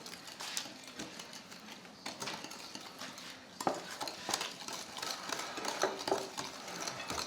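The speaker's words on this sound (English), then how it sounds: "Let's give this a little bit of a stir. Mix it all together." Carrot cake batter is stirred in a bowl, giving soft, irregular scraping and tapping strokes of a utensil against the sides, quiet and close with no talking.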